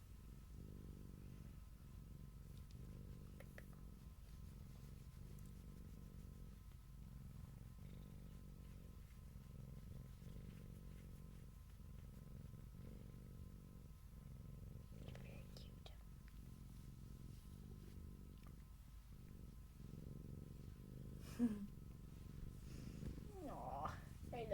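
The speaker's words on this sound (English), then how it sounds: "Can you hear him purring?" A cat purring near the microphone, a soft steady low rumble that continues through a quiet room, faint overall, with a brief whispered voice toward the end.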